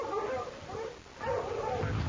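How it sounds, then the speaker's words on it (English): Dogs bark and yelp in an old-time radio drama adaptation of The Yearling, a hunting chase toward a swamp; the barking sounds fairly close and fills the scene in two bursts with a brief lull between. "The dogs, Pa!"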